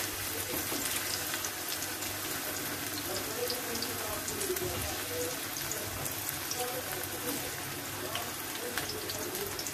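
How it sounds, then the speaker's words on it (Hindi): Taro (arbi) pieces frying in hot refined oil in a pan, a steady close sizzle and crackle filling the whole stretch, with faint background noise and no talk. "तो अरबी को फ्राई कर लेते हैं।"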